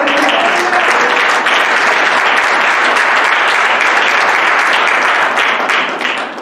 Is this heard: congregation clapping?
yes